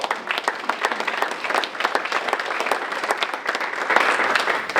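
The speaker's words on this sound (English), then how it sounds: "So let's give them a round of applause" A round of applause for a sponsor at a Chamber of Commerce leadership graduation: a roomful of people clapping briskly and unevenly, moderately close, holding steady for about five seconds.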